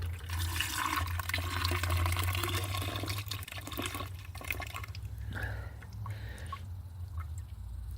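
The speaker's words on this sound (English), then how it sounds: "So I put this container of water in to the bottom chamber." Water is poured steadily into the bottom chamber of a solar cooker, a continuous close splashing and trickling that thins out toward the end.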